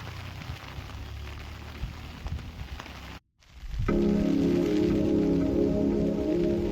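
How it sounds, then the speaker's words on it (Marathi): Heavy rain at Punade Dam pours steadily as a dense, even hiss; after a brief silent break it returns louder, with a low droning hum beneath it. "जोरदार पाऊस सुटलाय."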